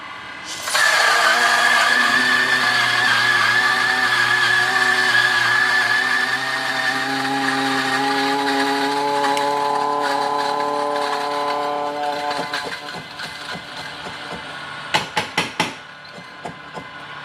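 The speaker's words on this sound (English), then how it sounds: "let's use the Wendougee Milo grinder, Milo 2" A Wendougee Milo 2 all-metal coffee grinder grinding 18 grams of beans, a loud sustained whirring drone that shifts in pitch as the beans break down, followed by a few sharp taps near the end.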